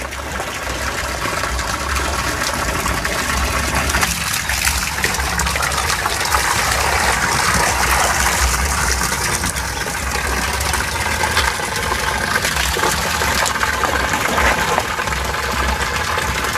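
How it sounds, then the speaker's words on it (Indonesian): Water is poured and splashed continuously over a catfish pond, making a steady, close gushing wash with a faint engine or pump hum underneath. "Kita siram sampai merata."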